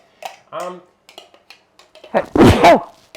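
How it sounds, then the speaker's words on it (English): A short exchange of speech is followed by a single loud, close sneeze with a sharp inhaled build-up. "I'm going to sneeze."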